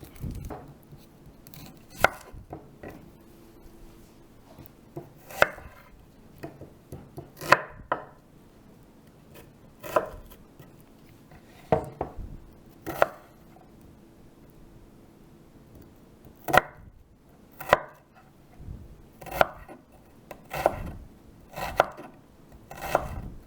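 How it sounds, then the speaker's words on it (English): Onions and garlic being chopped on a board, sharp knife strikes landing in loose, irregular bursts spread over a long stretch, close and clear against a quiet room, no voices. "I'm going to chop up the onions and the garlic."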